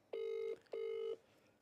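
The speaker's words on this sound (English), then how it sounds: "phone still ringing" Telephone ringback tone while placing a call, two steady electronic rings with a short gap between them, clear and close with no talking.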